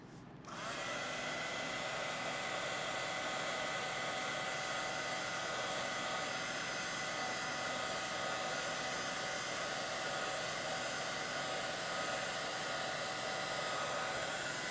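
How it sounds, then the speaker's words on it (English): A heat tool blows over gouache and watercolor paint, roaring on after a short silent moment as a loud, steady, unbroken whoosh that holds to the end. "so let's hit it with the heat tool."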